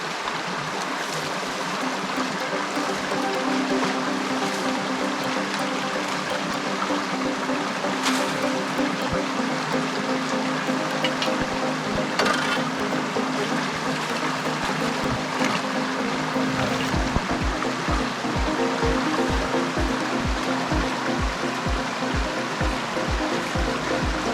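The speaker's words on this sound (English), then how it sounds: "Hopefully the water will still flow around it and through." Continuous rushing rainwater flows and gurgles through a drain for a long stretch, steady and fairly loud, with a low rhythmic churning joining in toward the end.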